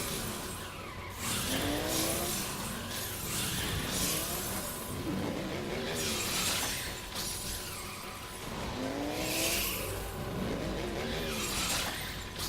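A motorcycle battle in the video game Final Fantasy XIII: engines whine and rev in rising, falling sweeps, and tires screech and skid. Bursts of crashing game effects come in loud waves throughout.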